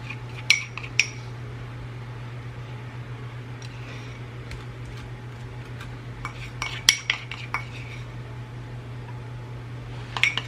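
A metal spoon clinks against a dish while spices are spooned onto chicken at home, with scattered light taps and scrapes in small clusters over a steady kitchen hum.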